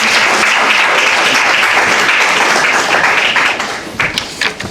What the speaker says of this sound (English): I think another loud round of applause